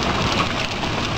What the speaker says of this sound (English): We're getting some larger hail now.